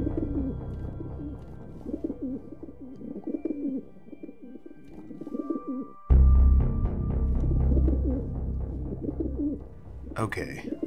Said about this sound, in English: Where are these damn pigeons?